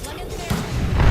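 Horizon's black hole singularity ultimate in the Apex Legends video game, a sudden low boom and swelling rumble that builds and deepens over about a second, with voices underneath.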